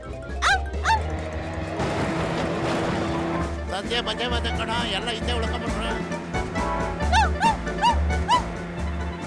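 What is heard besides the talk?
dog barking, cartoon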